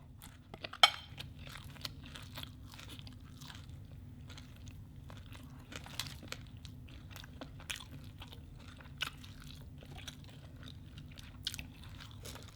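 Close, faint crunching and chewing of spicy Thai pork larb, with irregular bites and small clicks over a low steady background hum.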